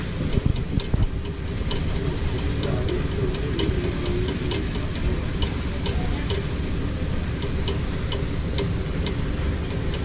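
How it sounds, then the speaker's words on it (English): A tender boat's engine rumbles low and steady throughout, with faint regular ticking clicks over it and some distant voices. "So here's the tender boat."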